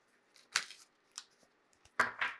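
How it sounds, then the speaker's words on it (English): A deck of oracle cards is shuffled nearby. Several crisp riffling bursts come at uneven intervals, the last ones louder, as if a card slips free, with no talk. "I was just shuffling through the activations oracle and I had one fly out."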